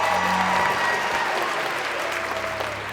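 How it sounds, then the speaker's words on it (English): A crowd at a community event claps in a strong, dense round of applause that holds steady and tapers slightly toward the end. "One more big round of applause for Jean, Kim, and Janet."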